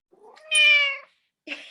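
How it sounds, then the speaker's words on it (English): A house cat lets out one long, loud, close meow, followed after a short pause by a second brief cry, with no talking. "here comes another kitty. I've got two kitties."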